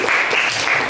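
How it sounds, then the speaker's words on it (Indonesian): Classroom applause from students filling the whole moment, dense and steady clapping close by. "Oke, tepuk tangan untuk jawabannya Mita"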